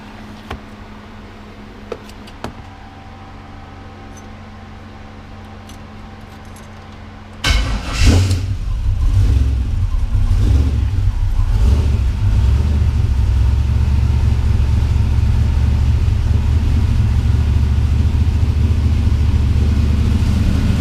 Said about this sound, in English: I'm gonna fire it up right now for the first time with the new exhaust on it